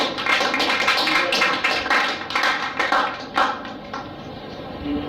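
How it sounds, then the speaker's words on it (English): An audience at a live event claps for a doctor, a lively patter of many hands that swells, dips and rises again before thinning out near the end. "Round of applause to Dr."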